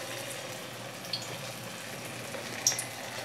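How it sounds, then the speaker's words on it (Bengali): A small test piece of batter drops into hot oil in a wok and sizzles faintly and steadily, with a couple of brief light clinks on top and no talking. "এখানে আমি কড়াইতে তেল বসিয়ে দিয়েছি, দেখে নেব তেলটা ঠিকমতো গরম হয়েছে কি না।"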